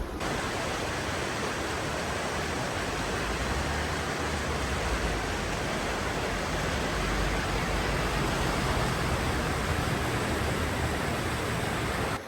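The wide single channel of the Tisa river in Rakhiv, Zakarpattia, heard as a steady, even broadband rush of flowing water, continuous and moderately loud, with no voices.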